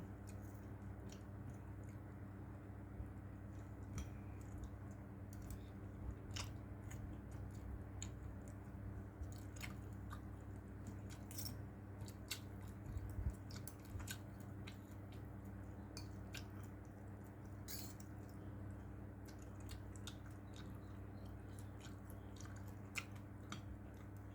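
Someone eating a bowl of stewed pork noodle soup with pork meatballs, soft squishy chewing and slurping close to the mouth, steady and quiet over a low constant background hum, no talking.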